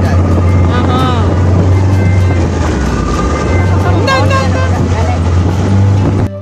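A boat engine runs steadily at sea on a dolphin-watching trip, a loud continuous low drone with water noise that persists throughout, while voices talk over it.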